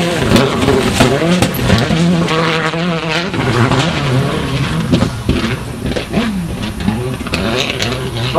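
A rally car drives through a gravel stage at the Rajd Barbórka in Bemowo, its engine roaring and revving with shifting pitch as it changes direction, loud and close, with a commentator talking over it.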